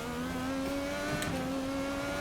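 An IndyCar engine in the iRacing simulator holds a steady high-pitched drone, rising slightly in pitch as revs build, with no voice over it.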